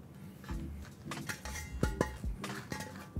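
A metal lid from a Babish sauté pan is picked up and handled, giving several light clinks and knocks against cookware, close and fairly soft, with no talking.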